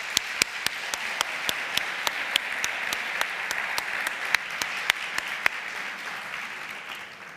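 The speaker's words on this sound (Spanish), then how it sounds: "Demos un fuerte aplauso aquí a Tomás." An audience applauds steadily at a formative dialogue gathering, a dense wash of clapping with sharper individual claps standing out, sustained for several seconds before tapering at the end.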